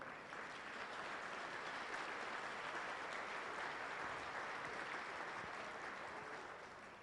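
Steady, even applause from an audience at a community award breakfast, a dense wash of many hands clapping continuously for several seconds, fairly soft and distant, with no voices over it.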